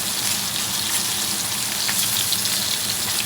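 London broil beef searing in a hot pan with garlic gives a steady, dense sizzle that holds close and even throughout, with no voices over it.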